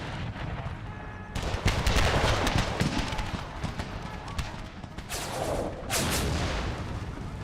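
Musket volleys and artillery thunder through an Empire: Total War mod battle between Confederate forces in the Carolinas, a dense crackling barrage that jumps in loudness after a second and keeps rolling, with fresh surges near the end.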